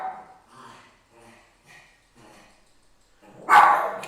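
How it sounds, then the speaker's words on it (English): An indoor pet dog barks in a series of short, faint, evenly spaced yips, then lets out one sudden, much louder bark at the end. No one speaks. "What are you barking at, Badger?"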